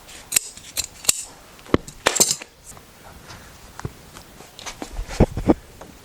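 Scissors cutting upholstery fabric during reupholstery, with several sharp snips and crisp metallic clicks scattered between softer handling rustles, close and fairly quiet with no talking.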